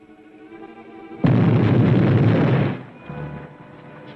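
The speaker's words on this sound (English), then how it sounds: "Explosion. Beneath bank." A sudden, loud, roaring explosion beneath a bank in a 1945 Charlie Chan mystery film. It bursts in after a low hum, holds for about a second and a half, then cuts off abruptly, leaving a low rumbling tail.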